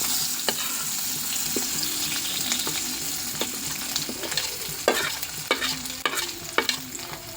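Garlic frying in oil for guava pickle, a steady sizzle broken by repeated scraping stirs of a spoon against the pan that grow louder and more frequent toward the end.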